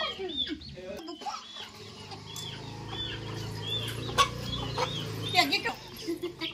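Hens cluck and squawk in short, irregular bursts close by while small children play around them, and voices chatter and call out among the birds.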